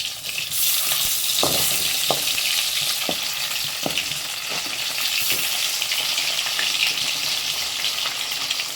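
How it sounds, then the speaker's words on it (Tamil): Fish fillets fry in hot oil in a pan, a steady close sizzle running throughout, broken by a few sharp crackles and pops as the pieces are turned one by one. "அதே போல் மீதி இருக்க மீன்களையும் வறுத்து எடுத்துக்கலாம்"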